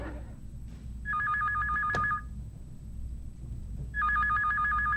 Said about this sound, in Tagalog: Sagutin mo naman yung telepono mo ba?